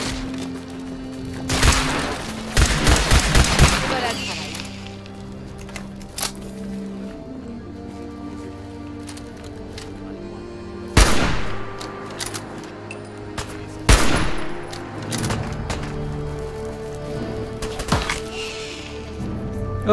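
Sharp shots in the video game Fallout 4 burst eggs, heard as a quick cluster of loud cracks early on and then isolated single shots spaced apart, over a low steady background hum.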